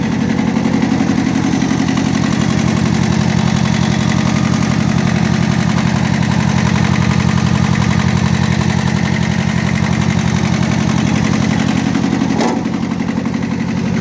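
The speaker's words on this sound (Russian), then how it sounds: "двигатель весь в родной краске, работает, как вы слышите, исправно, ровно" A small two-cylinder diesel engine on a Japanese 4WD mini-tractor idles steadily and close by, a loud, even low rumble with a rhythmic knock throughout.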